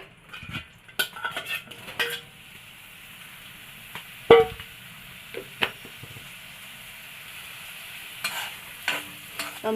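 Soya chunks fry in a tablespoon of oil while a spoon stirs them, giving scattered close scrapes and clacks against the pan over a faint, steady sizzle, with no speech.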